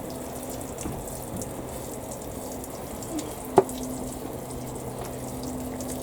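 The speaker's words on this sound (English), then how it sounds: "we will give that just a quick wet" Plants in an allotment greenhouse getting a quick watering, a quiet, steady splash of water running under a low background hum, with one brief knock midway.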